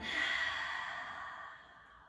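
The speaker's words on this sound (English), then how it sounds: "Deep inhale." A deep breath during a vinyasa yoga practice: one long, soft airy exhale-like rush of breath, close and quiet, tapering off over about two seconds.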